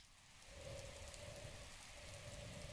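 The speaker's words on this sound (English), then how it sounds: "I can't climb because it's raining." Steady rain falls in the Zelda Breath of the Wild video game on Nintendo Switch, a soft continuous hiss of drops on the ground, faint and even throughout, with no talk.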